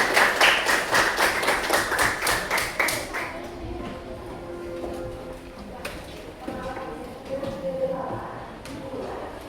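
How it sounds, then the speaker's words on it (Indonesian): Applause for a student group in a classroom: a burst of rapid, fairly loud clapping for about three seconds that quickly fades, followed by scattered taps, shuffling and murmured voices. "Tepuk tangan untuk kelompok 2."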